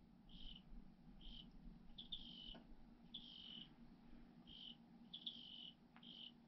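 A cricket or tree frog chirping in a basement, heard as short, faint, high trilling bursts repeating at roughly one-second intervals over a quiet low hum.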